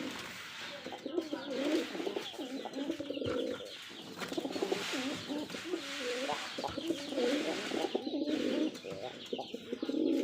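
Rajshahi Giribaz pigeons, a black pair, coo repeatedly in low throaty rolling calls, close by, with faint chirps and background noise around them.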